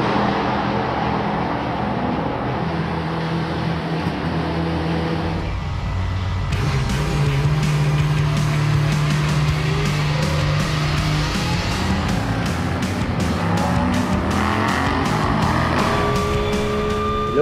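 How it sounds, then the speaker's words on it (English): Onboard a Porsche race car, the number 46 Ebi Motors entry, lapping Monza circuit: steady engine drone that rises into sharp revving with rapid gear changes, close and loud, no talk. "We jumped on board with the driver of the number 46 Ebi Motors car."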